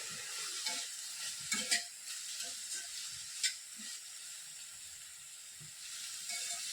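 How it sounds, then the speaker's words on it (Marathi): Onion and tomato with cloves and cinnamon sizzle steadily in a hot pan, with a bright frying hiss and occasional scraping stirs of a spatula. "आपण दोन मिनटासाठी कांदा टोमॅटो परतून घेणार आहे"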